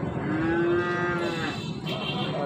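Cattle low at a rainy-day cattle market in Saruliya, a single long, sustained moo ringing out clearly and close by over a steady background murmur, with no talking.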